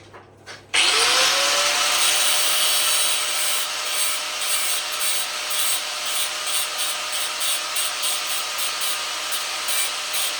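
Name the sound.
trimming the bottom edge of a Vauxhall Victor car door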